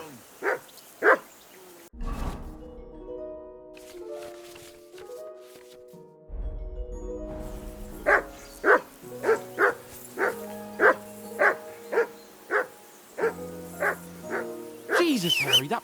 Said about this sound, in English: Jesus, Henry, that barking's driving me nuts! Can you get your dog to shut its beak?